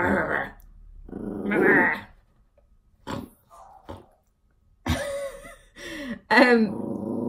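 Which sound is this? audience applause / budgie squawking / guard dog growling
guard dog growling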